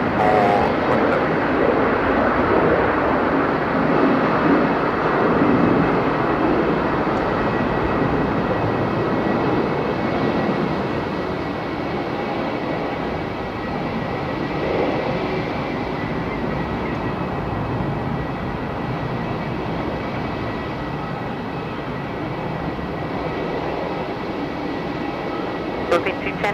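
An airliner moving for departure at Melbourne Airport, a broad steady jet roar at a distance that holds for the whole stretch and eases slightly, with voices heard over it.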